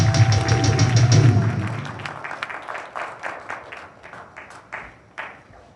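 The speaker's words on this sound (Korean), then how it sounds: "큰 박수로 맞아주시기 바랍니다." An audience at a Korean national rally applauds to welcome a speaker, a loud burst of clapping that thins into scattered, fading claps.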